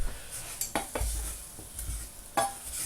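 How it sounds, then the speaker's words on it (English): A small spoon giving a quick stir in a bowl or pan while making chicken paprika, a few soft scattered scrapes and taps over a faint background sizzle. "now I am using a small spoon, quickly give it a little stir"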